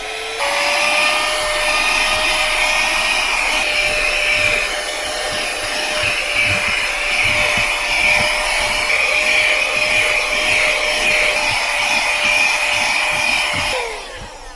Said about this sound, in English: it's decent for this small vacuum cleaner